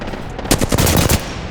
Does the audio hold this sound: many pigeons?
no